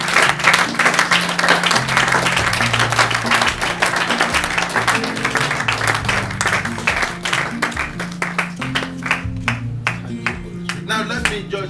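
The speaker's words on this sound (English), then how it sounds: "your hands together and clap." A church congregation claps hands together, loud and sustained with a rhythmic pulse, accompanied by music and voices, the clapping thinning into distinct separate claps near the end.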